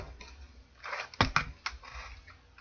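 A new wireless computer keyboard gives a few soft key clicks and taps at close range, sparse and irregular, in a quiet room.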